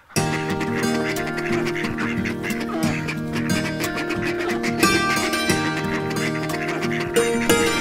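A crowded flock of farm ducks, including Jinjir ducks, quacks nonstop, many overlapping calls close by and loud, forming a dense, steady din throughout.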